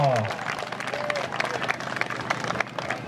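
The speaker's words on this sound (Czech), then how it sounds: "Hezký potlesk pro Rozálku" Scattered applause and cheering from spectators greet a young rider finishing an MTB Cup mountain bike race in Ústí, mixed with the announcer's voice and crowd chatter.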